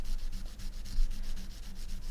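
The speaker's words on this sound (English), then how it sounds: "Just gonna kind of sand an edge into the" Steady soft rubbing and scraping of sandpaper against the edge of resin D&D dice, with a repetitive back-and-forth texture, fairly faint and close, with no talk.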